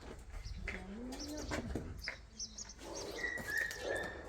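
Birds chirp and coo nearby in short, scattered calls, with a sustained whistle-like note near the end amid background noise.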